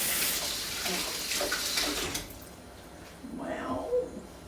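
Water runs and splashes while a cooking pot is rinsed and scrubbed clean, with bursts of flowing water, a pause, then a second short splash, fairly close and moderate in level.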